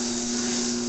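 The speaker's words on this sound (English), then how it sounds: "turn on the vacuum and the blower." Vacuum and blower of a Kirk Rudy WinkJet envelope printing system running: a steady, loud whooshing roar with a strong constant low hum, heard alone without speech.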